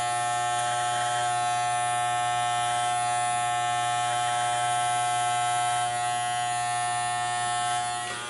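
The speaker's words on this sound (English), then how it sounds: "just trying to attempt to get a close shave here, you know, with the clippers" Electric clippers buzz steadily and close up while shaving a beard for a close shave, a constant droning hum with slight shifts in pressure and no pauses.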